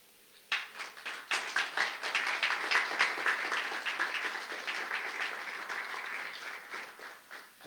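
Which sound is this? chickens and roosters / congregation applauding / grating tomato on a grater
congregation applauding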